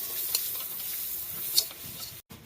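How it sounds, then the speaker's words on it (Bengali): Ground spices such as coriander and cumin being stirred and fried in a pan for a cauliflower kalia, a soft steady sizzle with a few scraping stirs. "একটু ভালো করে এবার একটু কষিয়ে নেব।"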